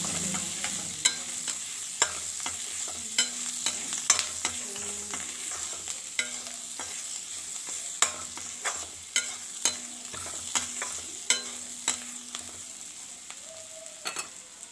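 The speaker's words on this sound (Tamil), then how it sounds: "கொஞ்சமாக உப்பு, கொஞ்சமாக மஞ்சள் தூள் போட்டு நல்லா வதக்குவோம்." Onion sautéing in a pan with salt and turmeric gives a continuous soft sizzle, while a spoon clinks and scrapes against the pan in regular strokes throughout; close by and free of talk.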